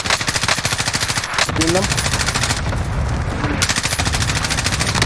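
Rapid automatic gunfire in the online shooter Warzone, dense bursts of machine-gun shots that pause briefly and resume, loud and close, with players talking over the action.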